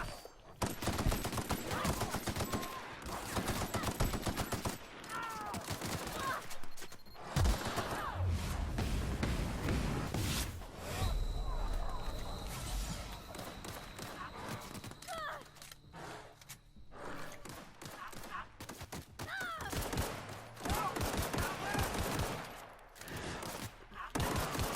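Rapid gunfire bursts and explosions in the video game The Outer Worlds, repeated volleys and single shots densely overlapping, with a player talking excitedly over the fighting.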